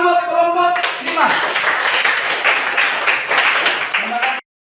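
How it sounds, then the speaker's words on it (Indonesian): A classroom group claps together for group 5, with a steady burst of many hands lasting about four seconds before stopping abruptly, and a voice is faintly heard at the start and end. "tepuk tangan buat kelompok 5"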